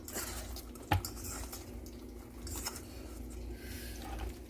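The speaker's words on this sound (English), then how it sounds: "Mix these meatballs up" Meatballs being mixed in a bowl, a soft wet churning with a faint low hum underneath and one sharp clink near the start, fairly quiet and with no talking.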